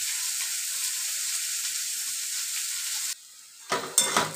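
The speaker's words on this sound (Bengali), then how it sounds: "পেঁয়াজগুলো ভাজা হলে মাংসটা দেব।" Onions sizzling steadily in a pan before chicken goes in, a constant close hiss that suddenly drops away near the end, followed by a few sharp clattering knocks.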